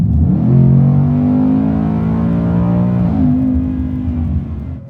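A Ford Mustang Mach 1 pulls hard, its loud V8 drone rising steadily in pitch, then a downshift briefly breaks the tone before the engine climbs again, heard close and continuous.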